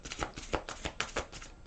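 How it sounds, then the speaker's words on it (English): Tarot cards shuffled by hand in a quick run of crisp riffling bursts, close and fairly soft, with no talking. "One more shuffle for Taurus."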